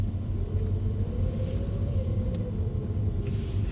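A car drives along a village street past the local shops, its engine a steady low rumble close by for the whole stretch, with faint rustles and clicks above it and no talk.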